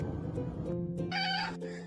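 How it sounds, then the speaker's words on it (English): A cat meows twice, a drawn-out plaintive call followed by a shorter one, close and clear over a low steady hum. "This is the story of Carlos, the cat people thought was just meowing"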